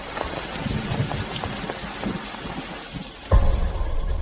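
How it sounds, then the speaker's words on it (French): Heavy rain pours steadily outdoors near a parking area, a dense hiss of drops with scattered louder patters and a sudden thump near the end, with no voices. "Il pleut à verse."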